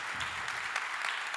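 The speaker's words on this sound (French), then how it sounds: "On peut vous applaudir." Brief applause rises from the audience at the closing session of a Paris smart city conference, a short, fairly even burst of clapping.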